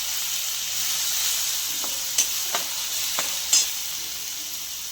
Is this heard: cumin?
yes